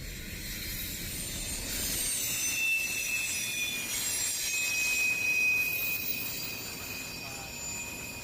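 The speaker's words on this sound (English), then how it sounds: "I came down the hill to Fort Madison to find this eastbound intermodal already going through" An eastbound intermodal freight train passing through Fort Madison rolls by with a steady rumble of railcars, high metallic wheel squeal ringing over it, moderately distant and continuous.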